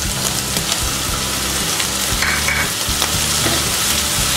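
Chicken pieces frying in a pan as soy sauce goes in, with a steady, loud sizzle and repeated scraping stirs of a utensil throughout.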